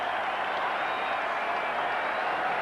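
A crowd at Fenway Park during a 1998 Yankees at Red Sox baseball game keeps up a dense, steady roar of cheering and applause that fills the whole stretch.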